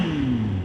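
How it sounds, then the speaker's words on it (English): A Kawasaki ZX9 motorcycle engine comes down from a rev, its loud, close tone sliding steadily lower as the RPM drops quickly. "she wouldn't be revving out like this"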